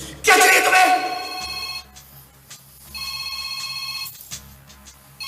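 A telephone rings loudly in a Hindi action movie, a bright electronic ring burst followed by further quieter repeated rings over background score and muffled dialogue.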